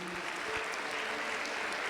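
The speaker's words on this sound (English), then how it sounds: "A very well-deserved round of applause for all of our retirees." Audience applause for retirees at a school district retiree appreciation banquet, steady dense clapping filling the room for a couple of seconds without voices.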